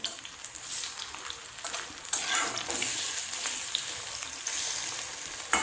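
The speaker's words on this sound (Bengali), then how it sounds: "এই যে দেখেন পেঁয়াজ পাতা পকোড়িগুলো আমি উঠিয়ে দিচ্ছি।" Spring onion pakoras frying in hot oil, a close bubbling sizzle that swells louder partway through, with brief scrapes as fritters are lifted out.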